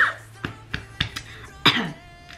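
Several short, sharp coughs spaced apart, close by, ending with a longer, harsher cough.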